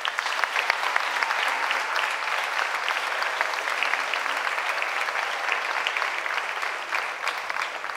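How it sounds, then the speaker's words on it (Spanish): An audience gives steady, even applause to the jury at the closing ceremony of an international ballet academies meeting, the dense clapping continuing at a moderate level throughout with no voices above it. "para todo este jurado pedimos un fuerte aplauso"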